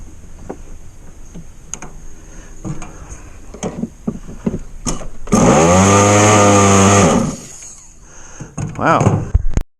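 A Jersey skiff's outboard engine with good compression being pulled over by hand, with clicks and handling noise, then a loud, close burst of engine cranking or brief running that cuts off. A person talks around it.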